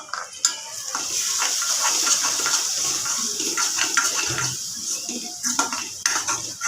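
A spoon stirs spiced yogurt into tomatoes sautéed in oil in a pan, giving close, continuous scraping and wet clinking against the metal, with brief louder knocks.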